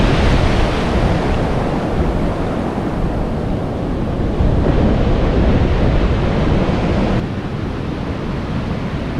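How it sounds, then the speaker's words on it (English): Loud, continuous roar of Pacific surf breaking nearby on the Oregon coast, with gusty cold wind buffeting the microphone throughout; no voices. "You feel that this cold wind coming off those waves."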